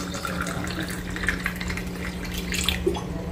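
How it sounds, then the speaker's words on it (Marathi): Cold water poured from a clay matka into a glass of lemon and rock-salt cumin sherbet, a steady, close splashing gurgle running throughout at an even level. "पाणी, थंडगार पाणी माठातलं"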